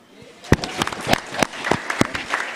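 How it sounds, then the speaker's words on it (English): Scattered hand claps build into a light round of applause from a small crowd, uneven and moderately loud. "I would like to have a round of applause for Pekka Besko."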